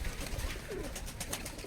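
White tumbler pigeons at a pigeon loft give soft, faint cooing over a steady outdoor hiss, the low murmur sitting in the background with no talk.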